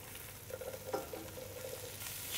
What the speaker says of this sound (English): we're going to crush our garlic into the softened onions. Stir for about 30 to 40 seconds